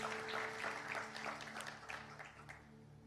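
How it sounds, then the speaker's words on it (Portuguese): Congregation clapping during a church sermon, a dense steady patter of hands over a low sustained musical hum, fading slightly toward the end. "Pode aplaudir o Senhor."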